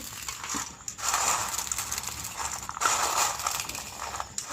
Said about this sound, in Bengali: কারি পাতাগুলো একটা প্লেটে নামিয়ে নিচ্ছি এগুলো একটু ভেঙে নেব